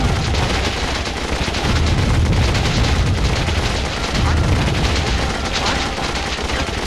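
Units in the Warzone 2100 strategy game firing on an enemy factory: a dense, unbroken barrage of gunfire and booming impacts that stays loud throughout, with no pauses and no talk.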